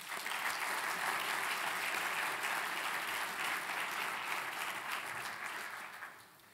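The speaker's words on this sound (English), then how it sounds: "I'd like to start with a round of applause for Jean-Yves Le Gall and the International Astronautical Federation" Steady audience applause at an industry luncheon during an international astronautical conference, a broad wash of many hands clapping from a large room, fairly distant and even, fading away toward the end.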